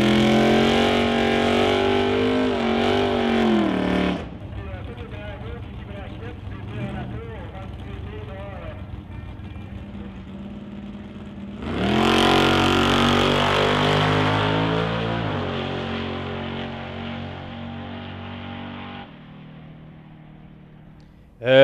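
A four-cylinder race car engine billed as the fastest in the world revs hard at a race track, a loud sustained wail that drops to a rough idle, then surges again in a long high-pitched rev before cutting off.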